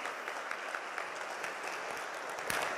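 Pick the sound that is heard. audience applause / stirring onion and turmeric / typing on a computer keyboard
audience applause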